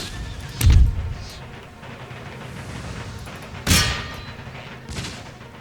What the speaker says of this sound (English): That's a wonderful barrage.